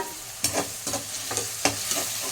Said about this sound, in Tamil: இது நல்லா வந்து வதங்கட்டும். இதுக்கு கொஞ்சமாக உப்பு போட்டுக்கலாம்.